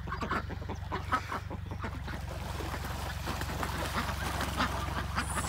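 A group of ducks at a newly dug, muddy backyard pond quacking in quick, overlapping bursts, moderately close, over a low continuous hum.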